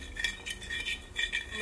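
Kalmas batter, a Kannur evening snack mixture, is stirred in a bowl: a spoon scrapes and clinks against the sides in quick, uneven strokes, close and fairly quiet, with no talking.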